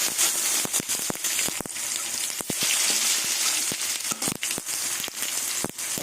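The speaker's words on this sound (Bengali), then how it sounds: "টমেটো একটু ভেজে নেবো তেলের মধ্যে।" Tomato sizzling and frying in hot oil with black cumin seeds, a steady crackling hiss punctuated by sharp pops and spits, close and fairly loud, with no talking.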